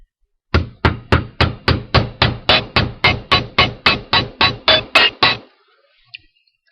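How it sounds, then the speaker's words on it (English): A hammer strikes wire about seventeen times in a quick, even rhythm, flattening one side to form a jewelry clasp; each sharp metallic tap rings close and loud before the blows stop and a faint click follows. "I'm going to hammer this side flat"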